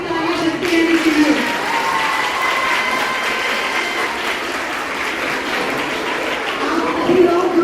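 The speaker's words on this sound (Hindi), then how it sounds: "जोरदार तालियां ताली बजती रहनी चाहिए" Loud, sustained applause from an audience at an annual sports meet prize distribution, dense clapping throughout with a voice speaking over it at the start and end.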